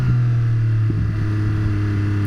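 A Yamaha R9 sport motorcycle engine runs loud and close, its revs rising and falling in quick blips as the auto-blipper matches revs on downshifts.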